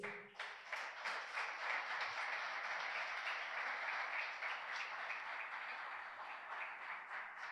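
A church congregation applauds during a Spanish-language sermon, a sustained, even roar of many hands clapping that starts abruptly and holds steady at moderate distance, with no talk over it.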